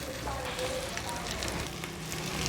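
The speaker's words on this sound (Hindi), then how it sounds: "ये पेस्ट को हल्की आंच पे मैं इसको फ्राई कर रही हूँ।" Masala paste for chicken biryani frying in oil on a low flame, a soft, even bubbling sizzle with faint crackles, fairly quiet and continuous, no one speaking.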